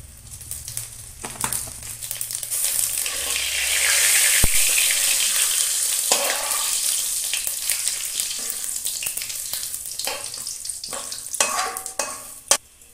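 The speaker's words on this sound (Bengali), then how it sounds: "ফোড়নে জিরে দিয়ে দেবো" Hot oil crackles into a bright, hissing sizzle as cumin seeds fry, swelling and fading, with scattered stirring scrapes and clinks.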